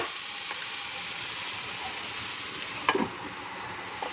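Vegetables and spicy sauce sauté in a pan for homemade noodles, giving a steady close sizzling hiss throughout, with a brief clatter of stirring near the end.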